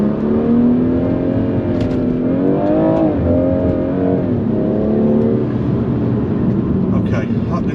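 A BMW M240i held on launch control in sport mode with sequential gearbox, its engine revving steadily near and loud, pitch rising and dipping, while someone talks over it.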